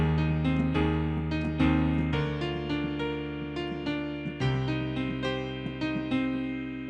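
Piano playing a passage of a song at full tempo, a steady flow of sustained chords and melody notes ringing together, clear and close with no voices.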